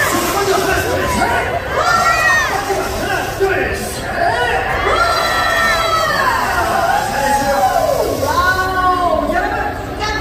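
Audience at an Everland water show in Korea shouting together on cue, loud massed voices rising in several bursts over a noisy crowd, with a presenter's amplified voice over it.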